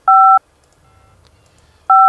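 Two short bursts of steady dual-pitch telephone keypad tones, separated by a quiet stretch with a faint low rumble.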